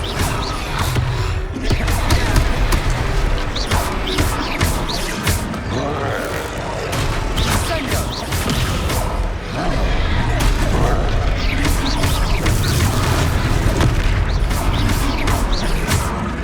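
Confringo fire-spell blasts from the video game Hogwarts Legacy burst out amid dense battle noise, with repeated booms and crashes over a continuous loud mix of combat effects and voices.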